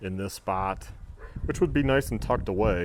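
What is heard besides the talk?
dog barking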